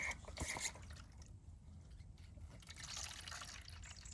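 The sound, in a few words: water running to refill a chicken coop waterer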